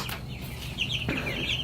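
Meat chickens clucking inside a newly built wooden coop, a few close, soft clucks and chirps over a low background hum, no talking.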